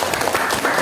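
Applause from a classroom audience at a teacher-training session, a short burst of many hands clapping at steady loudness with no talk over it.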